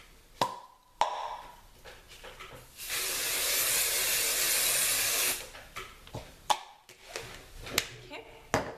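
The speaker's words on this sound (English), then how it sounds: "Once you have one side curled, spray it with hairspray" Salon Graphics Professional Shaping Hairspray is sprayed in one sustained, close hiss lasting a few seconds, between scattered knocks and handling sounds.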